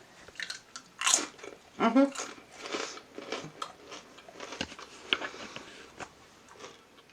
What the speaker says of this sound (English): And they're super crunchy and delicious.